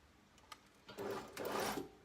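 A sewing machine stitches a dress dart in a brief, quiet run of a second or so, preceded by faint fabric handling.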